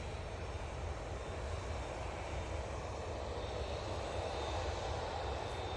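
An Etihad Boeing 787-10 Dreamliner departing Manchester Airport for Abu Dhabi: a constant, fairly distant jet engine rumble and hiss, steady and unbroken with no voices.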